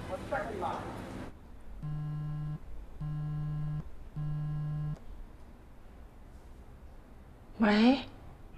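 A telephone ringback tone heard while a call is placed: three evenly spaced tone bursts, each about a second long, between brief speech before and after.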